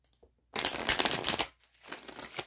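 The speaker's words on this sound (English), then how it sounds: "Give this deck a couple quick shuffles." A deck of tarot cards shuffled quickly by hand, a burst of crisp riffling and flapping followed by a softer second shuffle, close and alone.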